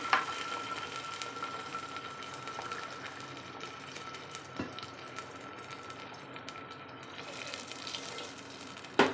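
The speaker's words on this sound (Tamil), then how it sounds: "இப்போது இதில் நம்ம தண்ணி விட்டுக்கலாம்" Water poured from a tumbler into a bronze pot while making rice upma, a steady gushing trickle running close by with no one talking.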